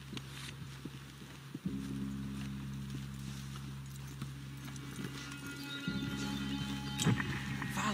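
Horses clip-clop at a steady walking rhythm in the video game Red Dead Redemption 2. The hoofbeats sit up close over a low droning ambience, and brief snorts and tack noises surface near the end.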